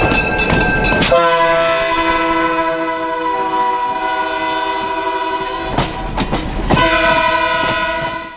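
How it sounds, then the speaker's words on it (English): A CB&Q E5 and Burlington Northern F9 diesel cab units meet and pass on a tourist line, a loud, steady multi-tone horn blaring almost throughout over rolling rail clatter and sharp bangs. "watching the CB&Q E5 get overtaken by the Burlington Northern F9s"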